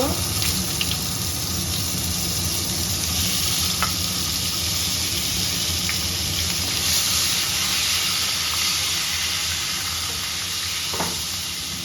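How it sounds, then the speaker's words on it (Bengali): Long-cut potato pieces fry in oil with a loud, continuous hiss and sizzle, close up, broken by a few light clinks and stirring knocks. "আলু কেটে নিয়েছি বড় বড় লম্বা লম্বা করে দিয়ে দেব ভেজে নেব"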